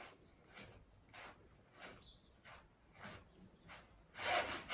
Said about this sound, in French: je frotte tout le pied, le dessous du pied par terre